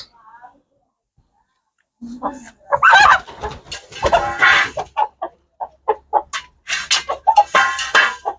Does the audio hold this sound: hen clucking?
yes